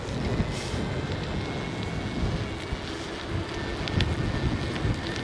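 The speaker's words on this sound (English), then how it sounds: "Oh, very windy here." Strong wind roars steadily on a bike ride near the Toronto Port Lands bridges, with a broad, rushing sound and gusty buffeting against the microphone, without any talk.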